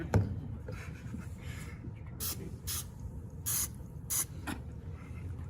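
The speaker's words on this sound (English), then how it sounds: "Do you know how to spray cooking spray onto a surface, top and bottom?" Several short hissing bursts of aerosol cooking spray, spaced irregularly, over quiet background noise.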